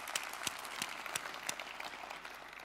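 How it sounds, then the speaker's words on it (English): A conference audience applauds the organizers of a tech talk, a steady wash of many hands clapping at moderate distance with a few sharper individual claps standing out, continuing throughout. "So let's applaud them."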